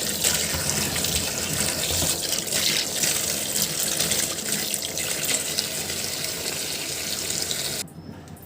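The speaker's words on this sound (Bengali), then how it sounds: "তো ধুয়ে নেই পানি দিয়ে সুন্দর করে।" Cut ash gourd pieces being rinsed under a running kitchen tap, a steady close gush of water splashing into a sink that continues for several seconds before cutting off near the end.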